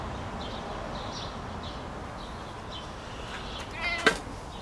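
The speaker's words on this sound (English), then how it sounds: "Meow." A domestic cat meows several times in a kitchen garden, soft short calls repeating at a steady pace over a low outdoor background, followed near the end by a sharper, louder sound.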